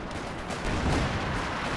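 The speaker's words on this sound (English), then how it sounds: "here come howitzer fire" Howitzer artillery fire in the World War II strategy game Company of Heroes 2, a dense, rumbling barrage that swells into a heavier boom about halfway through and keeps thundering steadily to the end.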